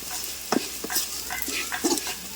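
Chili powder and coriander powder frying in hot oil in a home village kitchen, a soft steady sizzle with a few brief stirring scrapes and clicks.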